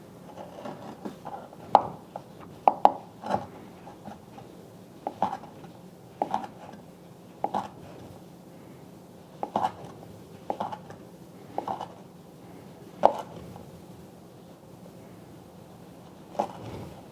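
Already cooked sausage being chopped into even pieces on a cutting board for sticky rice, a string of close, irregular knife thuds and taps, some in quick pairs, spread across a quiet kitchen background.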